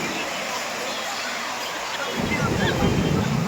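Sea waves wash over a grandmother and grandson at the shore: a broad, wind-buffeted rush of surf that swells into a louder, fuller surge near the end.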